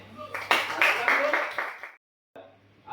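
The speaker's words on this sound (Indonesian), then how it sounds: "aplaus" A class claps for a student's correct answer, with a short, fairly close burst of hand claps that lasts under two seconds and stops abruptly, then quiet room noise follows.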